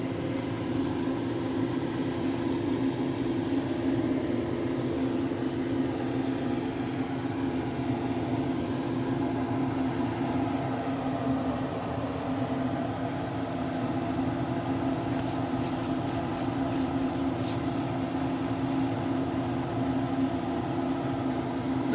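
A stir-fry with thickening sauce simmers under a lid in a regular pan, giving a steady, unbroken low sizzle and hum that runs evenly throughout with no voices.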